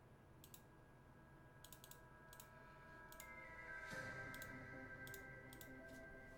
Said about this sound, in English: Let me do a typing test, not a typing test, but a keyboard tester.